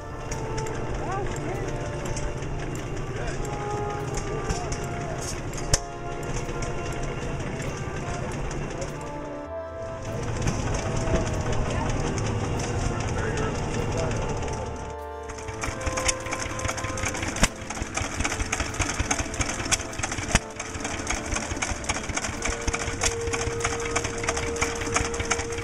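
Restored old engines running at a county fair tractor exhibit, a dense, continuous mechanical chugging and clattering with a high hiss, loud and close, briefly dropping out twice before resuming at full strength.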